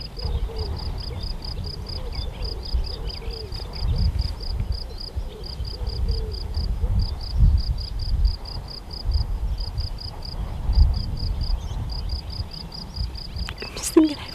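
Crickets and other insects chirping in the countryside of rural France, a fast regular pulsing trill running steadily throughout, with a low rumble of wind or handling noise beneath and a brief knock near the end.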